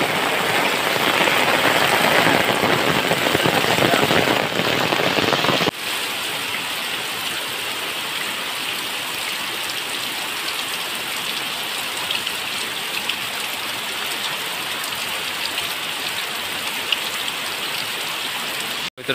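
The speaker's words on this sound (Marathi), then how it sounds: "एवढा जोरात पाऊस लागतोय की आणि पाणी बघा किती आलं या साईडला" Heavy Konkan monsoon rain pouring down, a loud dense hiss of drops hammering surfaces and running water, dropping to a slightly softer steady downpour partway through and continuing without voices.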